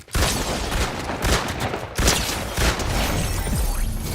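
Rapid bursts of gunfire from a weapon in the video game Fortnite, loud and continuous with several sharp volleys across the span, no talk over it.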